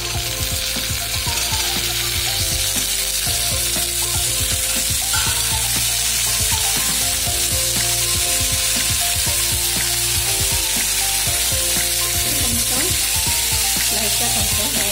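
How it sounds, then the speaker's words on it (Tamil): Small-cut potatoes frying with softened onions in a pan for an aloo paneer gravy, a loud, continuous sizzle with rhythmic scraping and clattering of a spoon throughout, no talking. "வெங்காயம் கொஞ்சம் வதங்கிட்டு இதில் 2 உருளைக்கிழங்கு, மீடியம் சைஸ் உருளைக்கிழங்கு இப்படி சின்னதாக கட் பண்ணி வச்சுருக்கேன்."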